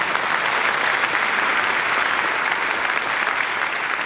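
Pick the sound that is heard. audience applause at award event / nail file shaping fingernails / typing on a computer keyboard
audience applause at award event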